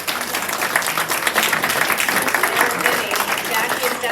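A town hall audience breaks into dense, continuous applause, a steady wash of many hands clapping with a voice mixed in.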